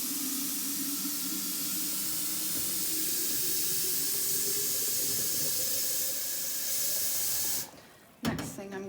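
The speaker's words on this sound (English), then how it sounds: "I'm swirling on the inside, and then I'm going to be filling it up" Very hot water gushes steadily with a hissing, steaming rush into raw-milk milking equipment being cleaned, loud and continuous for several seconds before cutting off abruptly, followed by a brief clunk and splashing.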